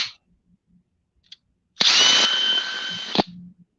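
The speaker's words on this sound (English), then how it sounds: "this drill, this Power Detect drill that you buy at Lowe's comes in a kit with this battery." A Power Detect cordless drill from a kit, bought at Lowe's, whirs at close range for about a second and a half in a steady high-pitched motor whine, then cuts off sharply, with no voices over it.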